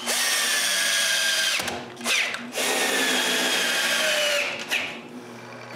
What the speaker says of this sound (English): I just need to screw it to the base now.